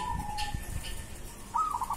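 A zebra dove (perkutut) gives a short series of soft, rhythmic coos nearby, with a brief higher call near the end over a quiet background.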